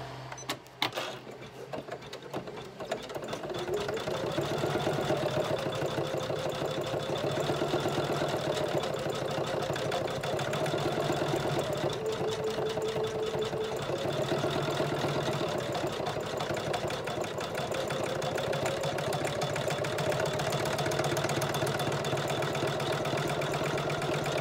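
An embroidery machine satin stitches a heart appliqué in red thread. It gives a steady, fast, mechanical whirring hum with a rapid needle patter that runs on evenly for over twenty seconds after a brief start.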